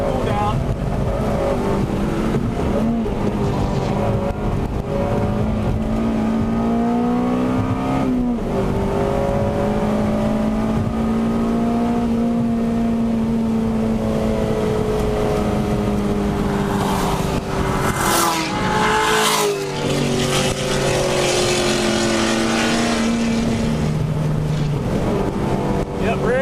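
A Honda Civic Si engine drones loudly during a hot lap on a racetrack, its pitch rising and dropping through gear changes and braking, with heavy wind buffeting the microphone and a voice talking at times.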